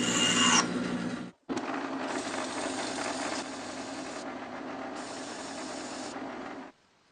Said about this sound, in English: I have to sand down that dowel a little bit to make it fit better.